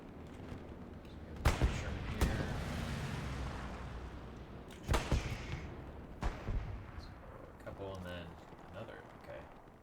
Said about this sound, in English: What are these tanks shooting at?